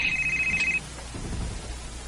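A cellphone ringtone signals an incoming call, a single steady electronic tone lasting under a second before it cuts off, followed by quiet low room noise.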